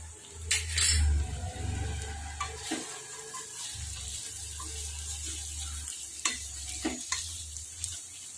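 Okra and potato curry fried in a pan with a spoon stirring and scraping against the metal, a steady sizzle underneath and intermittent clinks of utensil on pan, close and moderately loud, no talking.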